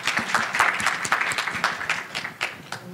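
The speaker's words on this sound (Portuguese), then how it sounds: "Uma salva de palmas para ele" The audience at a Python Brasil conference talk applauds for the speaker with steady, dense clapping that lasts all three seconds, with a few sharper claps standing out near the end.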